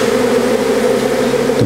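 A Pentecost swarm of honeybees buzzing loudly and close, a dense continuous drone with a steady hum, no voices.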